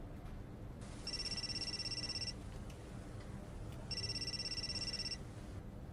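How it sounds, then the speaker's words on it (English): A telephone rings in two electronic bursts, each a little over a second long, with a pause between them, over a steady low background hum. No one speaks. "Don't you want to answer your phone?"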